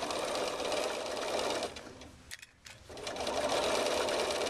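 A sewing machine with an edge stitch foot runs fast along a jeans hem, its rapid whirring stitches loud and close, pausing briefly midway before starting again.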